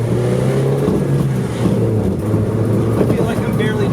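Toyota Yaris fitted with an aftermarket shifter driving on the road, heard from inside the cabin as a steady, loud low engine drone with road rumble that shifts in pitch partway through.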